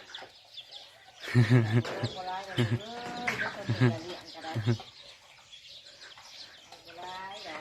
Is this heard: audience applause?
no